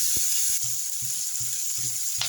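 Tomato fries in a pan for a fish curry, producing a steady bright sizzle broken by soft, regular stirring knocks against the pan.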